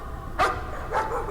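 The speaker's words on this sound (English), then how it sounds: "A dog." A dog barks inside the horror video game Layers of Fear, two short, moderately loud yelps spaced about half a second apart over a low, murky ambient drone.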